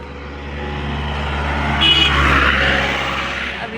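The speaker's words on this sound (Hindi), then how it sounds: "गाड़ियां तो जा रही हैं लेकिन वो टूरिस्ट गाड़ी है" A vehicle approaches and passes on a Pahadi mountain road. A steady engine rumble swells to a peak midway and then fades, with no talk.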